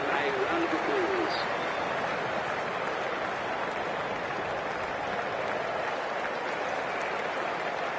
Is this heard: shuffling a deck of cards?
no